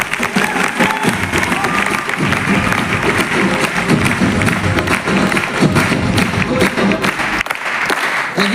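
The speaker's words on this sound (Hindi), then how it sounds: "तालियां बजाते हो कि बेइज्जती कर देते हो" Steady loud applause from a large audience at a seminar program fills the whole stretch, dense clapping sustained without pause and a little cheering mixed in.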